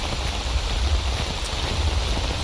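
Rain falls at a truck cemetery in the video game STALKER Anomaly, a steady hissing downpour with low rumbling underneath, fairly loud and continuous with no talk.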